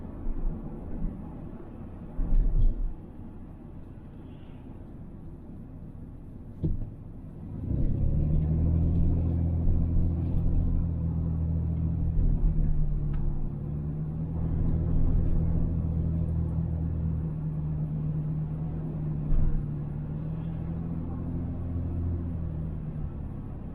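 Steady low road rumble fills a car cabin on an Ohio driving trail, swelling louder partway through as the tires roll on, with faint occasional bumps and no talking.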